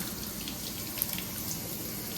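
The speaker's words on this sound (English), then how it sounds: "Cabin filter's running clear, doesn't look like it's bubbling up anymore from the soap." Tap water runs steadily, splashing as it rinses soap out of a K&N cabin filter from a 2018 Silverado 5.3, a constant close hiss with one faint clink.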